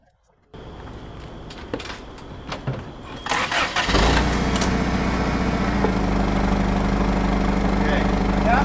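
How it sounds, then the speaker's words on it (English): A forklift engine starts up and settles into a loud, steady running drone while lifting a Nissan Silvia S15 Varietta off its stands, with brief clatter before ignition and voices nearby. "we just have to lift the vehicle off the stands with the forklift"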